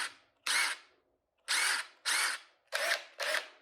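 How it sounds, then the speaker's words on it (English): DeWalt Atomic series cordless drill spinning up in five short bursts, each a loud high whine lasting about a quarter second, separated by brief silences, no talking. "Let's try out the drill."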